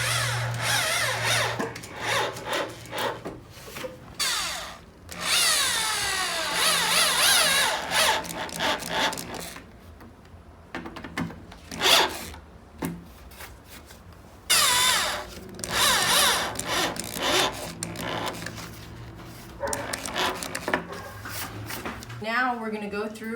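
A power drill drives screws into wooden planks while a vegetable drying rack is built, giving several close, whirring bursts with pauses between them and wooden rubbing sounds, and a person talking over parts of it.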